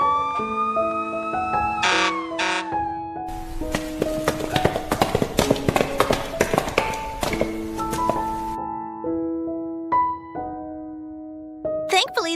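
An ambulance siren wails in rising and falling tones amid a busy cartoon-style mix of taps, chops and clattering effects, with music-like tones between and a voice present.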